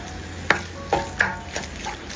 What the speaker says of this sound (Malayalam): 2 മിനിറ്റും കൂടി ഒന്ന് ഇളക്കി കൊടുക്കാം.